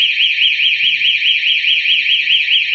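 A security alarm set off by a pet-immune PIR motion sensor blares loudly and alone, a steady high electronic siren warbling in rapid regular cycles.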